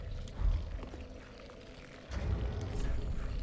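Gurgling, pouring liquid sound like gushing blood in the video game Dark Souls III, a steady wet rush that swells louder partway through, with no talk over it.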